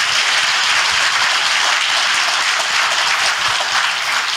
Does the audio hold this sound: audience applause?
yes